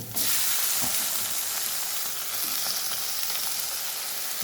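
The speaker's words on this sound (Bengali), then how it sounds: "আমার পেঁয়াজগুলো মোটামুটি ভাজা হয়ে গেছে তো আমি এর মধ্যে এবার দিয়ে দেবো টমেটো কুচি করে রেখেছি তো টমেটোগুলো দিয়ে দেবো" Onions frying in a pan for a home-style chicken and potato curry as chopped tomatoes are added, giving a bright, constant sizzle with a few soft stirring knocks.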